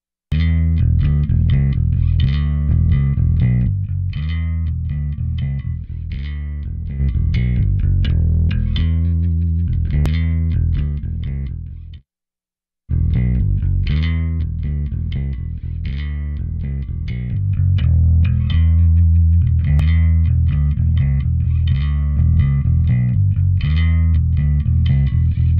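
Bass guitar played through a UA B15 amp simulator, a run of punchy, rounded notes in a steady groove with a brief silent break midway before the line resumes, alone with no talk.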